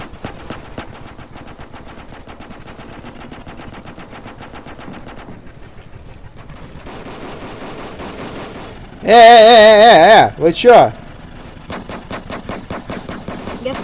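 Rapid, continuous mechanical cannon fire in the Roblox game Armored Patrol rattles steadily throughout, aimed at a helicopter, briefly drowned out by a loud burst of game sound, with a short spoken remark.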